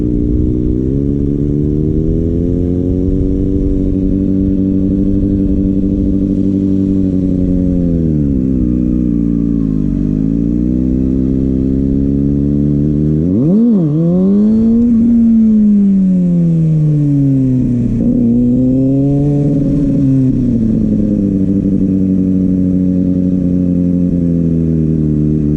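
A Kawasaki ZX6R sport bike, fitted with 14/52 gearing, drones loud and close while being ridden, its engine pitch rising and falling through throttle changes, with a sharp rev swoop midway and steady wind rumble throughout.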